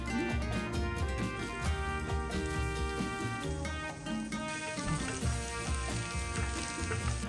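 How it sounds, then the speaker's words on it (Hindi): Garlic tossed into hot regular olive oil sizzles in a dense, steady crackle at close range that stays loud throughout, with a brief dip in the middle. "जैसे ये थोड़ा सा गर्म हुआ, इसमें I am going to toss in some garlic"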